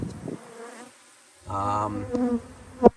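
Honeybees from a caught swarm fly around the entrance of their hive, making a close, wavering buzz that swells and fades as individual bees pass near, with a few short bursts of louder wingbeats.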